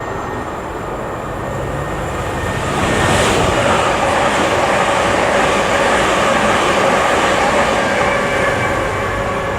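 A non-stopping train roars loudly and steadily through a small, little-used station in Hertfordshire, building up over the first few seconds and then holding a broad, continuous rumble with no talk.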